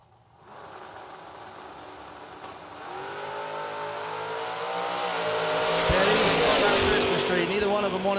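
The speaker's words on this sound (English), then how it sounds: "Taylor in the Camaro dialed 606." Drag racing cars, one of them a Camaro, rev and launch at a bracket race, engine roar building steadily and growing louder over about eight seconds, with a faint announcer voice underneath.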